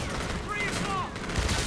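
Dense, continuous gunfire from the video game Call of Duty: Infinite Warfare, during the Operation Port Armor mission on Veteran difficulty, makes a loud, unbroken roar of overlapping shots with faint whistling effects mixed in.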